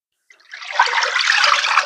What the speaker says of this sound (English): I'm starting off with 4 cups of broth,